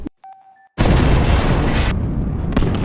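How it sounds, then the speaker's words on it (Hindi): A loud, sudden explosion in a heist film erupts after a brief quiet moment and roars on as a sustained, broadband rumble for about two seconds before tapering into a lower, continuing blast tail. "उधर जो भी धमाका कर देता है।"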